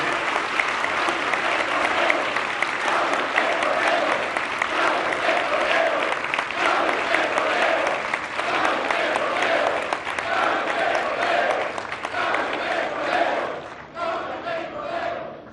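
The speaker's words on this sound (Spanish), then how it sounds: "Un aplauso grande a las y los trabajadores de Pemex" A large crowd at a public address applauds the workers of Pemex, Mexico's state oil company, with loud, continuous clapping mixed with cheers and shouts that holds steady before tapering near the end.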